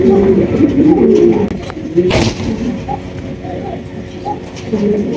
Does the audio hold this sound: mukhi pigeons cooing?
yes